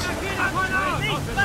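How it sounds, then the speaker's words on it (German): Wind and waves around a sailing ship in the video game Assassin's Creed 3, with steady rushing water and wind noise plus creaking, whistling tones across a brief stretch, no speech. "Wir fahren gegen den Wind"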